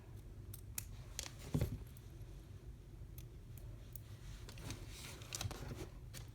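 Scissors snipping away stray embroidery threads along a zippered in-the-hoop bag edge, giving a few faint, sparse cuts over a steady low hum, with one slightly louder snip early on.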